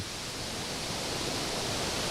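Waterfall along a forest trail in the Banthat mountain range, a steady dense roar of rushing water filling the whole clip with no voices.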